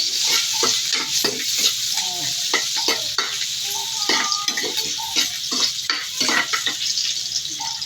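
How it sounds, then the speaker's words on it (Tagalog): Onion and garlic sautéing in oil in a pan for squid, a close sizzle punctuated by rapid, rhythmic metallic scrapes and clacks of a spatula stirring, continuous with no talk. "Ang ating ginisang sibuyas at bawang"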